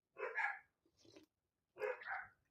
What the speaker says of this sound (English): I hear the dogs